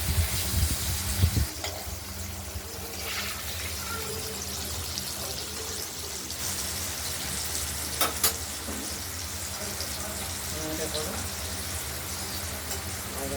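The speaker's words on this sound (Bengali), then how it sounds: "দেখতে থাকুন, ভাজা হোক, হালকা হলুদ হালকা করে ভেজে নেব।" Paneer pieces frying lightly in oil in a pan for a poppy-seed and green chilli paneer dish, a continuous close sizzle with occasional stirring clinks running throughout.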